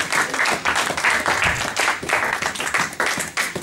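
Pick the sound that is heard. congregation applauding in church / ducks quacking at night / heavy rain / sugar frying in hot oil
congregation applauding in church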